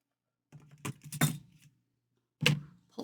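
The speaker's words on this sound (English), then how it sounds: "I'll just snip that off." Scissors snip excess off a crochet piece, giving a few sharp close clicks and snaps in a short cluster, then another after a pause in an otherwise quiet room.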